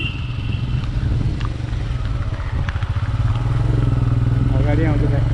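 A motorcycle rides past horses on a jungle safari route near Pokhara. Its engine drones steadily and close throughout, with voices talking over the rumble.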